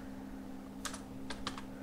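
Several short bursts of computer keyboard keystrokes as a command is typed, in two quick clusters over a steady low electrical hum, fairly close and moderately quiet.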